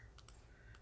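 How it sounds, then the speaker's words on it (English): A computer keyboard gets a few quiet, crisp key clicks, spaced unevenly, close up in a still room with no talk. "I'm going to use the space on the keyboard."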